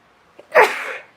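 A single sharp human sneeze bursts out close and loud after a faint intake of breath, trailing off over about half a second in an otherwise quiet indoor room.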